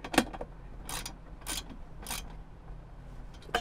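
Bolts on the plastic base of a Thetford Aqua Magic RV toilet are tightened with a ratchet, giving several short bursts of clicking spaced about half a second apart, close and moderately loud over a quiet room.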